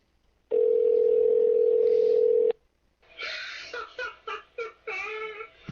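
Telephone handset placing a call: a steady, loud dial tone holds for about two seconds, stops, then a series of short tones and beeps follows in quick succession as the number goes through.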